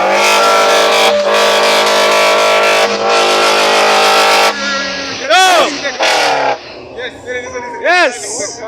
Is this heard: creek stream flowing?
no